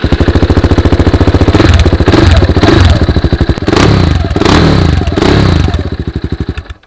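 An old, hard-ridden motorbike engine runs loud and close, thumping in rapid even pulses, surging through several throttle blips with clattering mechanical noise before settling back toward a slower idle.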